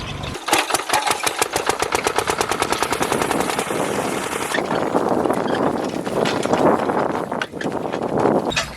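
An engine-powered fish cart runs with a rapid, loud, evenly spaced putt-putt chugging that drifts and shifts in tone, close by and without talk.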